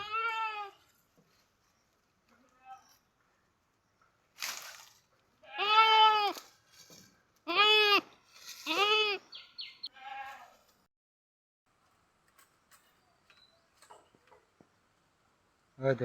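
A young goat kid bleats in a series of short wavering calls, a few separated by pauses, fairly close and alone in an otherwise quiet outdoor setting near gourd and pumpkin vines.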